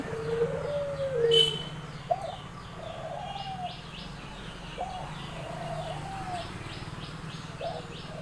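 Pigeons cooing softly in a village garden with trees, a few low repeated coos spaced across the stretch with faint chirps, fairly distant and quiet with little talk.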